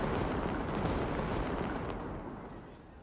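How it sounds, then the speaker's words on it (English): Fireworks burst in Genshin Impact during the Lantern Rite festival, a dense rolling crackle of rapid pops and booms that gradually fades, with no voices. "Get a little fireworks show."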